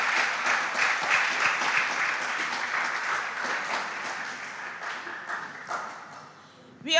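Audience applause for a junior high school team from Kumasi in the Ashanti region at a schools competition, sustained dense clapping that carries loud and steady throughout before tapering slightly near the end.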